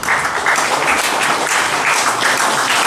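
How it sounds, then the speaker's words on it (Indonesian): An audience claps together at a 72nd birthday celebration for a Javanese puppet master, steady and full applause filling the room with no voices over it. "Sandi Asmo Ki Mantep Sudarsono, tepuk tangannya."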